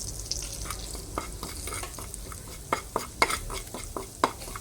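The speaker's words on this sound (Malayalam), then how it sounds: "നല്ല ഫ്രൈ ആവട്ടെ മസാല." Masala of pepper powder, chilli powder, turmeric and salt frying directly in hot oil for sardine fry, with steady sizzling and intermittent stirring scrapes and clicks, close and alone.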